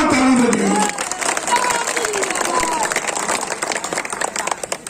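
A crowd at a political rally applauds on cue, with a voice over a loudspeaker at the start giving way to steady loud clapping and crowd noise that continues throughout.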